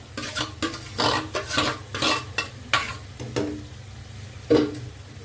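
Gongura leaves tipped into a sizzling fish curry and stirred, with loud scraping spoon strokes and clinks against the pan over a continuous frying hiss, the stirring easing off toward the end.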